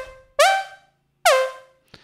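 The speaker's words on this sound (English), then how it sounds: "when you play a note up the scale, it has upward portamento, and then when you go down the scale, it has downward portamento" A synthesizer slider sound in Ableton, gliding between notes with portamento: two loud, bright notes that each swoop in pitch and fade, followed by a faint short blip.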